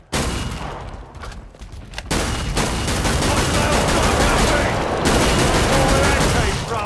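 Dense, continuous automatic gunfire from Killing Floor 2 on the Hell on Earth difficulty, loud and sustained, with a brief lull early on before the shooting resumes and holds steady to the end.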